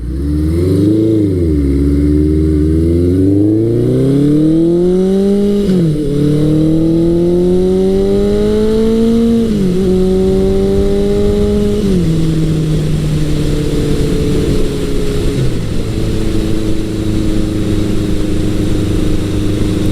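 A 1983 Suzuki GS1100L motorcycle with a Delkevic exhaust roars loudly and close while being ridden. The engine revs climb repeatedly through the gears, with no talking.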